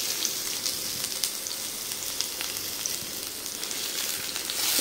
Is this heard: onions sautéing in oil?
yes